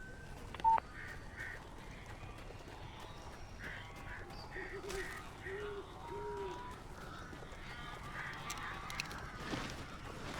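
Odd, repeated bird calls in the Alan Wake video game, short harsh caws and honks coming in bursts over a steady ambient background, moderately distant and without speech.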